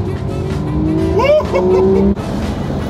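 A high-revving Porsche GT3 RS engine climbs and shifts pitch, with a loud whining drone and brief tire-like squeals, close and continuous.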